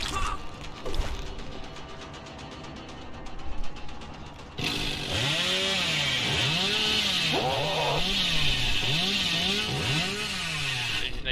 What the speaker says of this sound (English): My chainsaw is not registering.